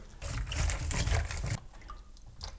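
Celery dropped into a pot of water mixed with baking soda, giving a loud wet splash and sloshing for about a second and a half, then quieter small drips and trickles.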